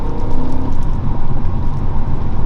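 Full-throttle acceleration from a BMW E92 M3 V8, heard from inside as a loud, thick, pulsing engine roar that holds strong for the whole stretch.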